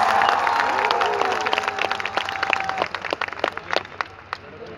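Audience clapping for a college group at a welcome event, with a tonal whistle or note early on, then sharper, scattered claps swelling in bursts toward the end.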